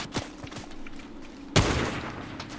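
Gunfire in the video game Fortnite: a few sharp shots crack out, the loudest near the middle followed by a rumbling tail, heard at moderate level with no talking.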